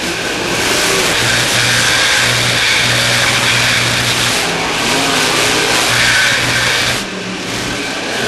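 A dirt track race car on a Central Missouri oval during a heat race, its engine roaring steadily and rising and falling through the turns, loud and continuous with crowd and track noise mixed in.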